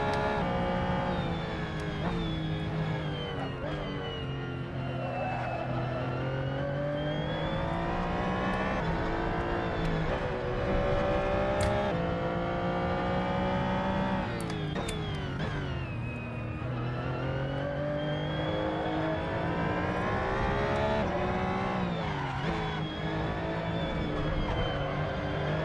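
A race car engine drones steadily at high revs in the video game Assetto Corsa during a multiclass race at Portimão, Portugal, its pitch rising and falling with gear changes and lifts, loud and continuous with no speech.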